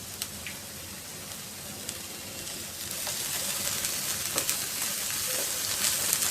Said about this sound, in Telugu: ఇవి కొంచెం వేగిన తర్వాత క్యాప్సికమ్ ముక్కలు, అల్లం వెల్లుల్లి పేస్ట్ వేసుకొని వేయించుకోవాలి.